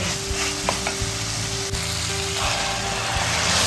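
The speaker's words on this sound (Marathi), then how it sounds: "गरम पाणी ॲड केलं थोडं" Masoor lentils frying with ground masala in a pan hiss in a steady loud sizzle as a little hot water is added, with occasional scraping stirs close by.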